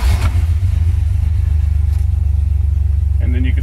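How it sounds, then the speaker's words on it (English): A car engine, pre-oiled with a pre-lube system, cranks and catches almost immediately, settling into a loud, close, throbbing idle rumble that continues steadily. "I flip the switch back off and turn the key and start the engine."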